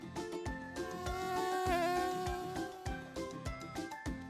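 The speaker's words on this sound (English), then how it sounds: "Mosquito." A mosquito's steady, high-pitched whine hums over a soft rhythmic backing with low pulses, swelling slightly in the middle before settling again.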